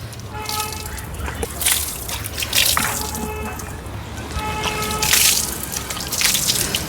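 Shampoo water splashes and drips while a gear bicycle is washed at home, with repeated sloshing gushes and trickling liquid throughout, and a voice occasionally speaking underneath.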